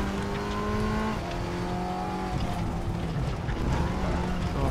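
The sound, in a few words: Audi TT Cup race car engine driving, RaceRoom video game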